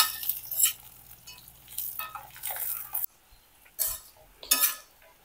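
Two broken green chillies sautéed in oil in a pan, a light sizzle with intermittent stirring scrapes and utensil clinks against the metal, then a quieter stretch with a few more stirs.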